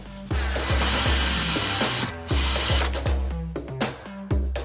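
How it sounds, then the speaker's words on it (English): A power drill whirs loudly into a wooden disc in repeated bursts, its pitch rising and dipping as the bit bites and is eased back. "I'm going to drill a hole at the back of the disc"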